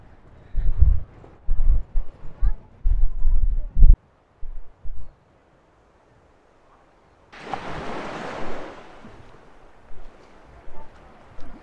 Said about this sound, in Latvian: Nenormāls vējš.